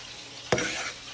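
A spoon scrapes through honey, butter and Louisiana hot sauce in a pan on the stove. The mixture sizzles and bubbles steadily, with one sharp scrape near the start and no voices.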